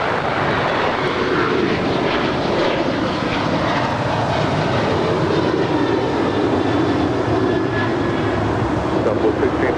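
An airliner taking off at Los Angeles LAX, a loud continuous jet engine roar with broad rushing noise that holds steady throughout.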